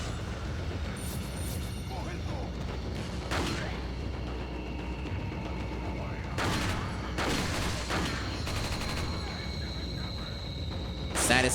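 Gunshots ring out during a frantic horror-action fight, with repeated sharp cracks spread across a noisy, busy soundscape, some grouped in quick clusters, as a voice talks over the action.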